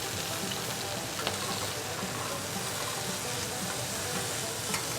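Cornish game hens browning in a frying pan, a dense continuous sizzle and spatter that stays loud and close throughout with a few faint clicks on top.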